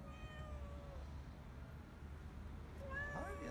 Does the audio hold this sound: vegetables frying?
no